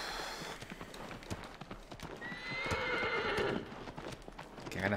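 A horse in the Shadow of the Colossus video game gallops with steady clip-clopping hooves and lets out a loud neigh partway through, close and clear with little talk.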